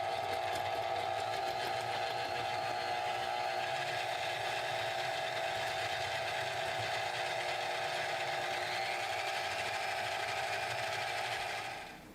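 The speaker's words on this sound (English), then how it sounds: "you're going to beat those with a stand mixer or an electric mixer until fluffy" An electric stand mixer beats butter and egg for butter pecan tarts, a steady loud motor whir with a constant pitch that runs without a break for about twelve seconds before tapering off, no voices.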